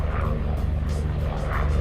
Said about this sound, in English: They like to fly overhead right when I film.